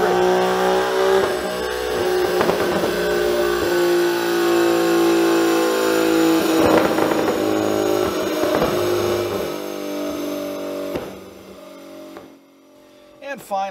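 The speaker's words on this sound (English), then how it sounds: "The throttle response is super snappy, and the car is running great." Modified Infiniti Q50 with an aftermarket exhaust accelerating hard, engine note rising loud and sustained through the gears, then easing off near the end; talking runs over it.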